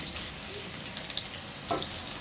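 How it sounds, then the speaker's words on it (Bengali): Chopped onions fry in hot oil in a kadai, a dense, steady close-up sizzle with a brief stirring scrape near the end, and no one speaks. "পেঁয়াজটা একটু লাল করে ভেজে নিব।"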